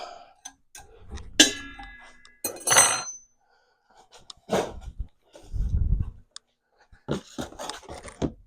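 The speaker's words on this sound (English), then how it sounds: "We'll put a catch pan under it, and we'll catch any oil that comes out." Metal catch pan set under a vintage Gravely circular saw attachment, a few separate close clanks and scrapes of sheet metal with quiet gaps between, no talk.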